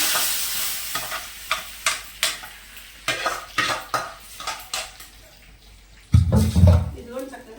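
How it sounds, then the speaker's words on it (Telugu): Curry leaves and garlic crackle in hot tempering oil for a Telugu lentil dish with Malabar spinach. A spoon clinks and stirs in a steady run of sharp taps over the sizzle, and a voice joins near the end. "వేసారు కరివేపాకు చక్కగా ఈ విధంగా తాలింపు పెట్టేసుకున్నాను నేను"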